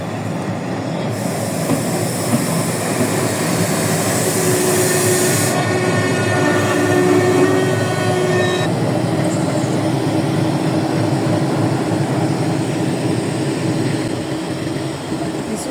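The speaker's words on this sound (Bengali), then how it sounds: "কিছুক্ষণের ভিতরে এই ট্রেনটি যাত্রীবাহী সবাইকে নামিয়ে দিয়ে আবার ঢাকার উদ্দেশ্যে রওনা হয়ে গেল" A passenger train pulls out of Talma station in Faridpur, its loud steady rumble and rolling wheel noise filling the scene, with a brief high squeal and hiss early on.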